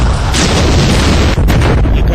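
Indian Army artillery guns firing shells in a show of strength, a loud continuous roar of booming blasts that merge into a dense, rumbling wall of sound.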